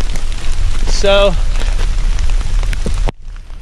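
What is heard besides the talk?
cold rain falling during a hike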